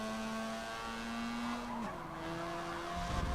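A Mazda RX-3 on a race course, its engine note loud and close, holding a steady pitch that drops with a shift and settles again.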